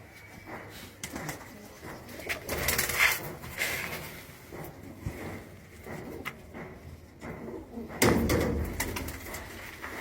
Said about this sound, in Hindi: व्यूअर्स ये देखें, इनके जोड़े वाले कबूतर हैं